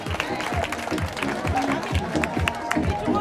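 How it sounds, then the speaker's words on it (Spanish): Applause for a Labrador Retriever at a pet contest in a shopping centre, steady clapping from a crowd with voices chattering underneath throughout. "Los aplausos."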